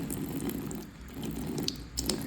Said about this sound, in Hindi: चलो पानी डालते हैं इसमें